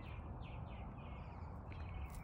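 Birds chirp faintly in fruiting trees, a few short tweets over a steady low background hum.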